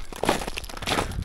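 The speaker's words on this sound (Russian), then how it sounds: "Лед, конечно, со снегом под ногами хрустит." Crunching footsteps on icy, snow-covered ground in a winter park, a steady run of close, crisp crinkling and crushing steps with no talking.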